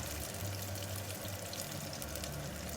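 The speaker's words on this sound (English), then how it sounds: "So I get my oil to warm up and I add in my pepper mixture." A pepper mixture sizzles in warm red palm oil for an egusi soup, giving a fairly quiet, steady crackling fry with no break and no voices.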